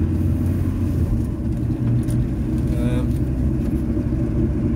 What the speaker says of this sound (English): Van's making weird noises as usual.